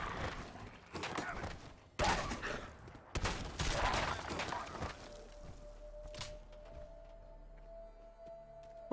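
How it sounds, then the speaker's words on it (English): Gunfire from a 10mm pistol in Fallout 4: several sharp shots in quick bursts, the loudest around the middle, followed by a quieter stretch with a steady hum and one more crack near the end. "I can only do about 3 shots with the 10mm"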